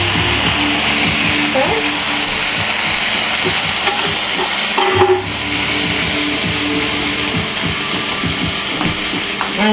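Country style ribs seasoned with salt and pepper sizzle and spit in melted butter in a pan, a loud steady frying hiss with scraping stirs, and a voice speaks briefly over it.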